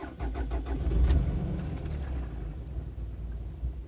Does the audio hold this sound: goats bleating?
no